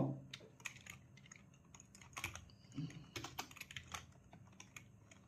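Rapid, irregular keystrokes as a folder name is typed on a computer keyboard, close and crisp, with quiet pauses between short bursts and no speech.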